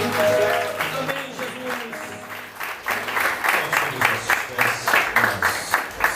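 Congregation claps through a church worship service, rhythmic clapping building from a mixed crowd while singing or organ-like tones hold underneath, the claps growing sharper and more regular toward the end.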